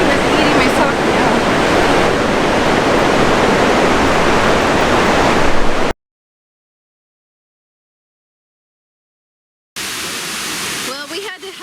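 Loud, steady roar of a waterfall with strong wind gusting at Gorges State Park, filling the first six seconds, then cutting to silence before returning slightly thinner near the end.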